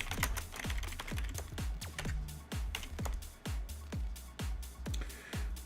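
Fingers type on a computer keyboard in a steady run of crisp, close key clicks at a brisk, slightly uneven rhythm, with no talking.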